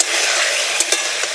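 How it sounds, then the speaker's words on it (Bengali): Papaya pieces frying over a very low flame in a pan for a vegetarian dish with lentil dumplings, giving a steady close sizzle with a few brief stirring scrapes and no talk. "এবার আস্তে আস্তে জাল করে পেঁপেগুলোকে ভেজে নেব।"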